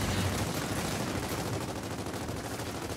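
Rapid gunfire in Gears of War 4, a dense continuous burst of shots with no pauses, fairly quiet and without speech.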